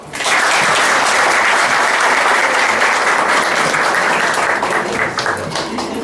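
An audience gives loud, steady applause from start to finish, welcoming a speaker at a Christmas-themed community event.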